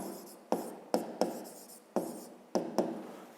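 A hand writes out a math solution for a fifth-grade geometry exercise, producing about six sharp, close scratching strokes, each fading quickly, with no talking.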